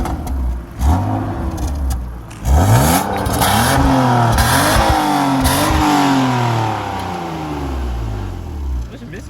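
A small BMW engine is started and revved, its pitch climbing and falling through repeated throttle blips. It sounds close and loud, with a discreet but punchy tone.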